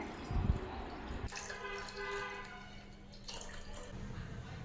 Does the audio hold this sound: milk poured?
yes